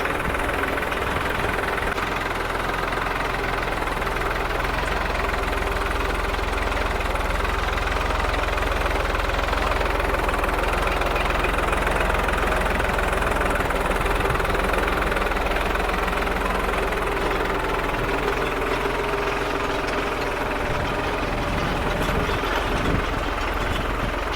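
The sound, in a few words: tractor engine running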